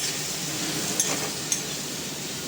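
Spring onion greens fry in oil on a high flame, a steady bright sizzle with a couple of faint clinks from a stirring spoon against the pan.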